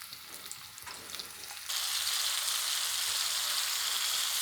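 Coconut oil with curry leaves crackles softly, then bursts into a loud, steady sizzle as fish is dropped into the hot pan, continuing evenly.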